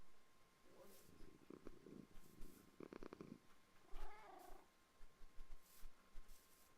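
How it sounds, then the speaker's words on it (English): Tamed cats in Minecraft give soft, quiet purrs in short rumbling bursts, with a few higher meow-like calls mixed in, all faint and close. "here we've got a couple cats that Yorkshire Hart has finally managed to tame"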